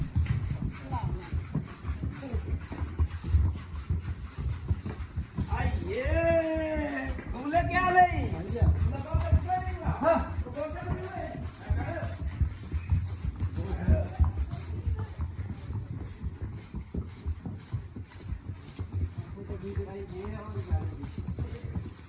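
Horse hooves clip-clopping on the uphill pilgrimage path to Vaishno Devi, a steady patter under a continuous crowd murmur, with someone talking nearby and an animal call around the middle.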